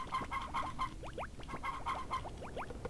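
Chickens on a farm in Harvest Moon: Friends of Mineral Town, a few short clucking calls in repeating bursts over a steady game background loop, moderately loud and with no talking.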